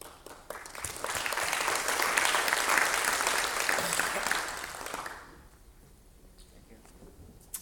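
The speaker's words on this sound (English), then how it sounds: "If we could have one more round of applause, please." Conference audience applause after a keynote at a tech build event: a dense, even wash of clapping swells over the first second, holds strongly for about four seconds, then fades abruptly into quiet room tone.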